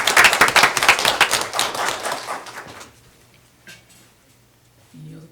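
Audience applause at a school board meeting, a dense burst of clapping for about two and a half seconds that fades out, heard in a room with some voices around it.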